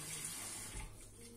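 Water is poured steadily into a tajine for cod-style fish, a continuous soft splashing stream from close by with no speech.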